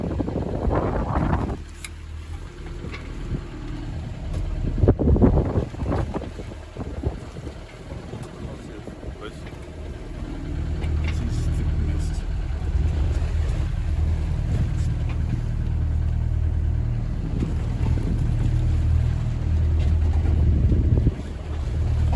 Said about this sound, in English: we're going to motor into our anchorage